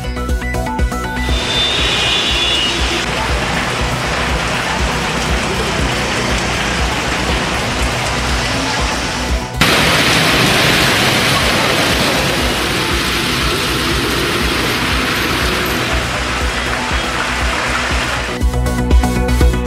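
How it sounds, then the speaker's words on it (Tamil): Heavy rain falling in Avadi, a suburb of Chennai: a dense, loud, steady hiss of downpour on surfaces that continues without a break, with a brief shift in intensity midway and no voices. "சென்னை புறநகரான ஆவடியில் கனமழை."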